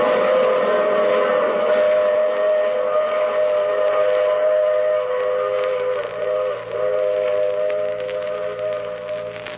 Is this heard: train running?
yes